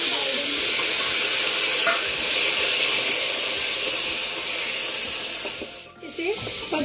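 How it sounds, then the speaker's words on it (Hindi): Chopped tomatoes fry in a pan of oil with whole chilli while being stirred, a steady loud close sizzle and hiss with occasional scraping, briefly dipping near the end. "अब हम इसमें टमाटर जो हमने काट के रखे थे डाल देंगे।"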